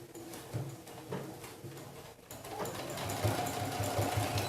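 Sewing machine running in reverse for a backstitch while a zipper pouch is sewn, a steady mechanical whir that starts soft, pauses briefly and then grows louder and denser toward the end, with no talk.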